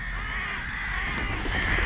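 Crows caw among other birds feeding outdoors, the calls blending into a dense, busy background with no clear pauses.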